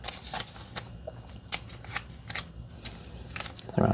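Material being ripped in half during DIY RV thermostat work, heard as rough tearing crackles with scattered sharp snaps at close range.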